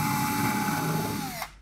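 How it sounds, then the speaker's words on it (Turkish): A power drill with a spade bit bores into wood, a close, loud steady whine that drops in pitch near the end and then cuts off abruptly. "Yaprak uçlu delik deleceğimiz zaman"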